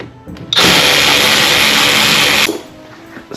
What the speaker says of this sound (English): First thing you want to do is remove this T20.